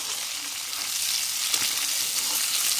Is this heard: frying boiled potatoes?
yes